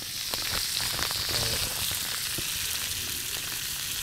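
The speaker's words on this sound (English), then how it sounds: "sizzling in the pan" Butter sizzling in a pan while cooking at a wild camp, a steady close crackle with scattered pops running continuously without talk.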